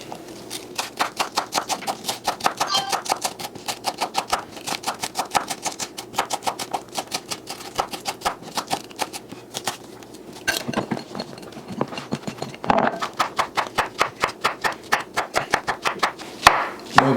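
A knife chops mushrooms on a cutting board in quick, steady, sharp taps, close and crisp, with a few brief pauses and scrapes between runs.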